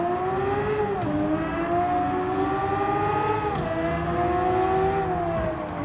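A race car with a large exhaust in Gran Turismo 7 revs loudly and steadily, its engine note climbing and dropping through several gear shifts, with no voices.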